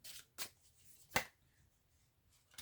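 A deck of cards being shuffled by hand to draw one, with a few quick riffling bursts and soft pauses between them, close and fairly quiet, with no voices.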